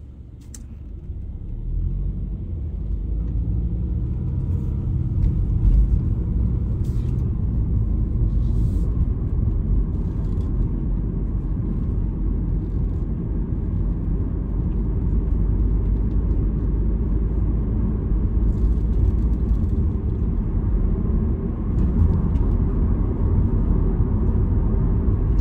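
Fifth-generation Subaru Legacy turbo pulls away, a steady low engine rumble building and holding for the whole stretch, loud and continuous with no voices.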